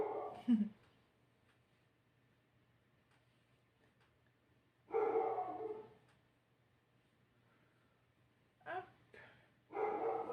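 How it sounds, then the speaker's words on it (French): A female dog indoors gives a few short, fairly close barks spaced several seconds apart, with quiet room tone in between. "Ma chienne vous dit bonjour."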